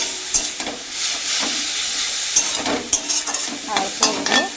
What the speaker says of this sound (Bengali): শাক ভাজা করে নিই